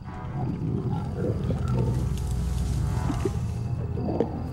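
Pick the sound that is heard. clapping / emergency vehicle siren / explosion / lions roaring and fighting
lions roaring and fighting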